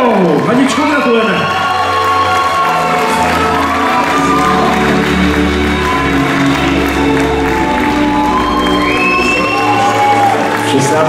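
A Miss Roma 2024 beauty pageant audience claps and cheers loudly, with whoops and excited shouts as a steady crowd roar under an announcer's voice.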